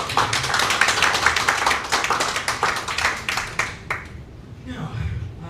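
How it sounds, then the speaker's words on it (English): Audience applause at a summit: dense, fairly loud clapping that holds steady for about four seconds, then thins out and fades, with a voice speaking faintly near the end. "Another round of applause, please, for."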